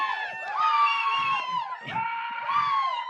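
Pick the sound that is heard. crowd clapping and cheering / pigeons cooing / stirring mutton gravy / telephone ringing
crowd clapping and cheering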